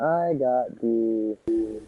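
A ringing telephone signal sounds in Call of Duty Zombies on the Ascension map. Short sustained electronic tones follow one another, broken by a brief gap, with a player's voice speaking over part of it.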